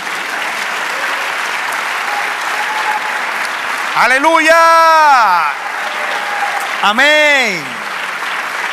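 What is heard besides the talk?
congregation applauding in church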